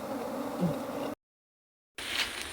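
A low, steady buzz of bees in the mountains hums close by, cut off by a sudden stretch of silence before the buzzing resumes.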